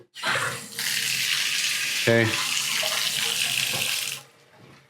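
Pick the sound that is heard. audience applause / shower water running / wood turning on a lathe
shower water running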